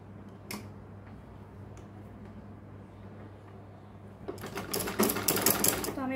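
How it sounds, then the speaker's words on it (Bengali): A sewing machine stitches lace onto a trouser hem, with a few isolated ticks at first, then a fast burst of rapid mechanical stitching near the end, up close in a quiet room. "তো আমি আগে এখানে সেলাইটা দিয়ে নিই"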